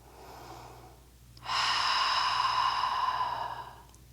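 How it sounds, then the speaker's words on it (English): Deep, steady breathing during a yoga stretch for golfers: one long, loud exhale held for about two seconds after a quieter breath, close to the microphone. "Lots of deep breathing here."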